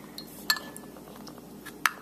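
A small toy car dipped into a glass of water gives two sharp, bright clinks against the glass, about a second apart. Between the clinks a faint splash and quiet room hiss can be heard, with no talking.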